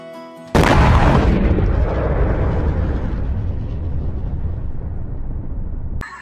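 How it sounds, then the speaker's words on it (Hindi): A giant Diwali firecracker bomb goes off as a cartoon effect: one loud, sudden blast that rolls into a long, rumbling decay before cutting off abruptly. "छोटू ने बम को दगा दिया।"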